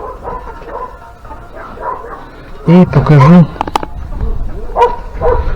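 Dogs on a rural farmstead with rabbit hutches bark in a loud burst of several yelps in the middle, with someone talking before and after.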